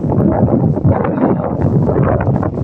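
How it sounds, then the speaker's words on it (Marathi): Wind on a hot summer afternoon buffets the microphone in a continuous low rumbling gust that stays loud and unbroken throughout, with no voices. "दुपारच्या टायमिंगला आता वारा सुटलेला आहे"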